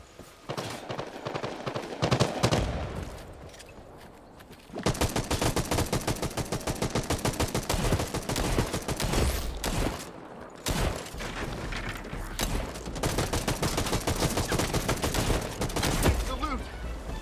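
Gunshots in the game Hawked, with long stretches of rapid, loud firing broken by a quiet lull and short pauses, dense and continuous for much of the stretch.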